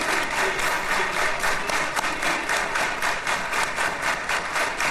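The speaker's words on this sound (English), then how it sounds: "What is this rhythmic clapping that they're doing?" Audience clapping in rhythmic unison, dense and loud, with steady repeated beats filling the whole stretch and no other sound standing out.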